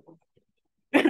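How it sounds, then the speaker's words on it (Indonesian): A single close cough bursts out at the end, after near silence with only a few faint murmurs, from an Indonesian-speaking presenter during a web development bootcamp session. "sorry agak batuk ya"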